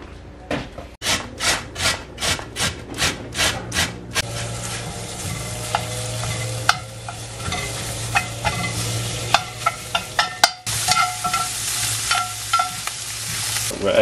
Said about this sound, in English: I'm gonna brown half of the package of sausage in a cast iron skillet.